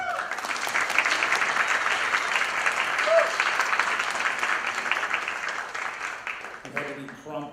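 An audience at a college awards ceremony applauds steadily for several seconds, a dense patter of clapping that tapers off near the end.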